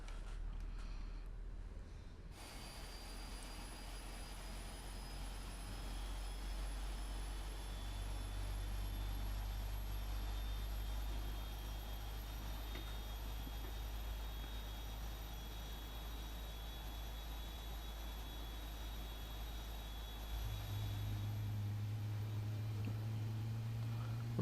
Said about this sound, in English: Right engine firing up, coming alive.